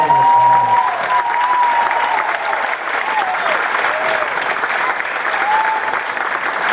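An audience applauds a middle school play performed by young students, a dense, steady wash of clapping that stays even and fairly loud from start to finish.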